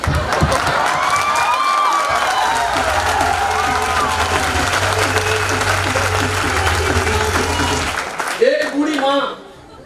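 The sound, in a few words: audience applause and cheering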